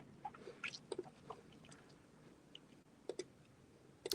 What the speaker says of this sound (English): I can hear you chewing.